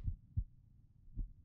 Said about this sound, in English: my heart beating.